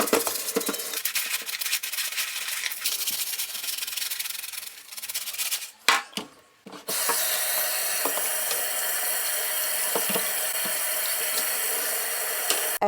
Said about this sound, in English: I normally just put everything in hot soapy water and use a brush.